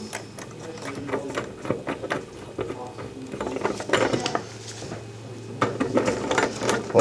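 A screw is turned down on a puller seated on a faucet cartridge while rebuilding a single-handle Moen lavatory sink faucet: close metallic scraping, clicks and ratcheting clanks in irregular bursts, with no talk.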